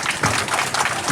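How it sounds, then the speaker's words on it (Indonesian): Crowd at a political party office opening in Trenggalek, Indonesia, bursts into dense, steady clapping that fills the whole short stretch without a break. "Kita berikan tepuk tangan yang meriah"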